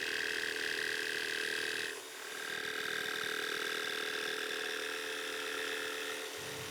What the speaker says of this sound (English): Now I'll just remove the waste with my jigsaw